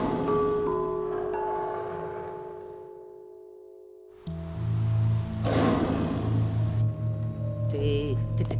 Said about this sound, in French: Ça, c'était un cri de dragon.